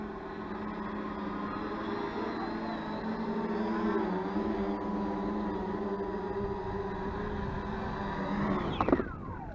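Electric motors of a VTOL aircraft holding a steady whirring drone through a test flight, with a brief rising-falling pitch shift and a few clunks near the end as it moves.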